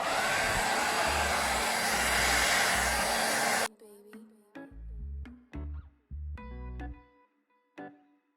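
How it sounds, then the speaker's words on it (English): A hair dryer blows loudly and steadily on a lace frontal wig for several seconds, then cuts off abruptly, followed by quieter intermittent clatter and handling sounds. "So take the hair dryer again."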